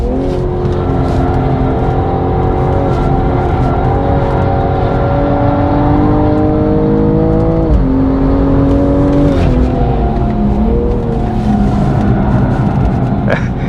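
BMW M240i xDrive or sDrive G42 coupe engine revving hard on a race track, loud and sustained with rising and falling pitch through the gears, heard from inside the car throughout.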